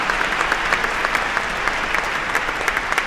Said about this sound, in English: Let's have a round of applause for them as we're celebrating today.